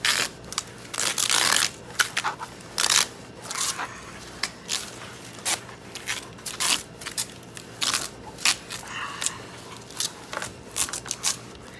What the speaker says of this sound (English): that little crackle sound is my favorite thing because it means the foil is releasing, even just from pushing on it.